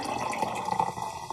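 Grape juice and Sprite pour into a glass, giving a short, close, soft splashing trickle with a bubbly fizz, faint and steady, with no talking.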